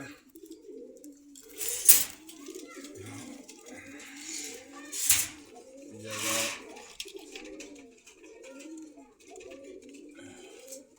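Pigeons cooing at a bird seller's stall in Meradia bazar, Banasree, Rampura, Dhaka: repeated low throaty coos in a steady rolling pattern, close by, with a few sharper rustles or wing noises and someone talking over them.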